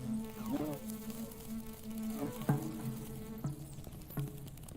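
A bumblebee buzzes at a lab puzzle, pulling a string to reach a nectar reward. It gives a steady, close drone that rises and falls in short bursts.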